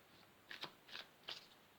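Tarot cards from a Rainbow Tarot deck being shuffled by hand: three short, soft riffling bursts in quick succession, close and quiet, with no talking.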